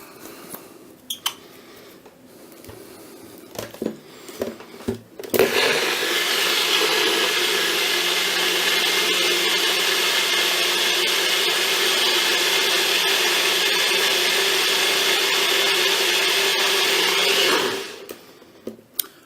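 A NutriBullet blender grinds a spinach smoothie, starting abruptly after a few soft clicks and handling noises and roaring loudly and steadily up close for about twelve seconds before cutting off.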